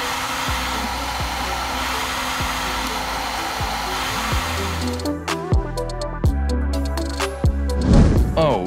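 Cooling fan on a Creality K1 3D printer gives a loud, steady airy whir that lasts throughout, with tonal shifts and clicks in the second half.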